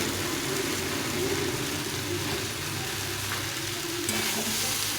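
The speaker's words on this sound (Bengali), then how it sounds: "সয়াবড়িটা দিয়ে দেবো দিয়ে এটাকে ভালো করে কষিয়ে দেবো" Soya chunks are sautéed in a hot pan, producing a steady, loud, continuous sizzle and hiss that never lets up, close by, with no voices heard over it.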